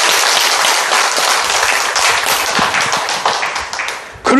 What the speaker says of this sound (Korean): 믿음 박수를 하나님께.